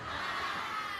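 A crowd at an Islamic religious gathering in Ciamis cheers and shouts in a brief, dense, broad wash of voices that holds steady for about a second.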